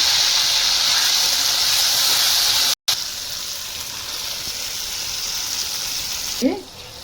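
Tomatoes dropped into a pan of frying onions, green chillies and garlic paste give a loud, steady hiss and sizzle that holds throughout, with a brief break and a soft voice near the end.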